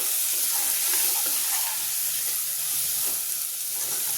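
Spices and sambar masala frying in a pan give a loud, continuous close sizzle, with faint stirring scrapes running underneath throughout.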